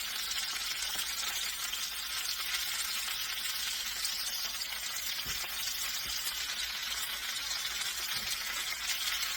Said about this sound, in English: now we're going to hear that sizzle we want to hear.